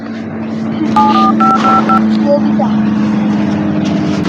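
A quick run of about seven telephone keypad tones beeps over a constant engine drone, the tones crisp and evenly spaced.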